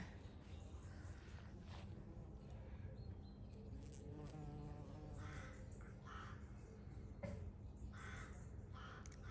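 Bumblebees buzz and drone close by around a garden shrub, rising and falling as they move around, with an occasional crow cawing in the background.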